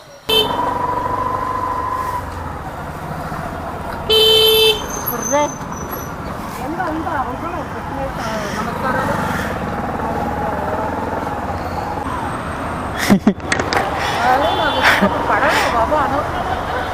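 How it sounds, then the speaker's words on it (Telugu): Busy city road traffic heard from inside a ride-hailing car during the morning, with steady engine and road rumble, a long car horn blast early on, and a few more honks later while people talk nearby. "అదే కదా ఇప్పుడు ట్రాఫిక్."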